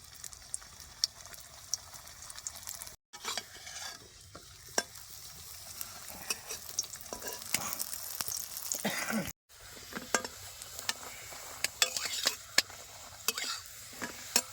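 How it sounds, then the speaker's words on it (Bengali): Paratha frying in hot oil in a pan, with a continuous crackling sizzle and frequent sharp pops and spatters, briefly cut off twice, no talking. "এবার পরোটা দিয়ে দেবো তেলের মধ্যে"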